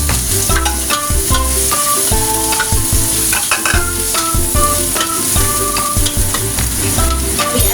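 Stir-frying in hot oil for Chinese cooking, a loud continuous sizzle with rhythmic scraping and clanking of a utensil against the pan throughout, no voices.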